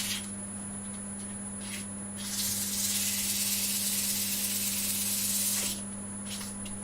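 Sandpaper hisses against the centre of a large wooden platter spinning on a lathe, a steady rushing rub that swells louder for a few seconds over the constant motor hum.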